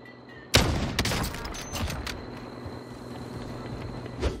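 Gunfire in the video game Warzone: a loud burst of close shots, then a few more cracks and a last distant shot near the end.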